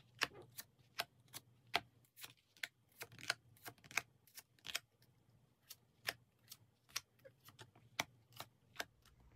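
Tarot cards are handled and flipped open for a Korean reading, a sparse series of sharp, close card clicks and snaps over a quiet low hum, with no speech.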